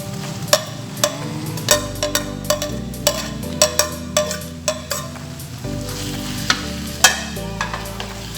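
Sliced hotdog sausage sizzles steadily in a pan while being stirred for homemade cheesy spaghetti, with repeated sharp utensil scrapes and clinks against the pan over continuous frying hiss.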